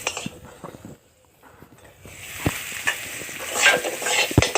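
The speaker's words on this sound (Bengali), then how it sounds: "আগে থেকে ভেজে রাখা মাছগুলো মশলার মধ্যে দিয়ে খুব সুন্দর করে এরপর মিশিয়ে নেওয়া হলো" Fried fish pieces being stirred into sizzling spice masala in a pan, with a quiet pause before the frying hiss swells and scattered clinks of the utensil against the pan grow louder toward the end.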